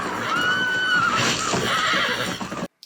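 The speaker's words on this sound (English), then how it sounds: "Already breaking a horse first thing in the morning." A horse whinnies loudly and close, one long drawn-out neigh with a falling pitch that fades into a second, shorter call, heard over faint background noise before a sudden cutoff.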